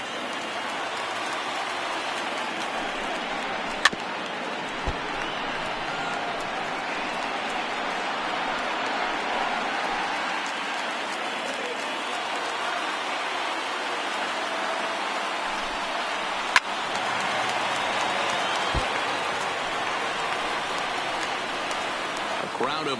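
Baseball stadium crowd of over 39,000 in the video game MLB The Show 19 roars in a broad, steady wash of cheering that lasts throughout, with a couple of brief sharp knocks, and no clear voices standing out.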